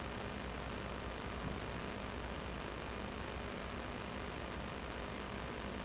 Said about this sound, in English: 737-800, flight 701, going to Antalya, Turkey.